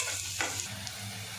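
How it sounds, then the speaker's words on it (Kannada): Onions and split green chillies sizzle as they roast in a pan for egg bhurji, a brief steady frying crackle heard close, with no voices. "ಅರ್ಧ ರೋಸ್ಟ್ ಆದಮೇಲೆ ಹಸಿಮೆಣ್ಸಿನ್ಕಾಯಿ ಹಾಕ್ತಾಯಿದ್ದೀನಿ"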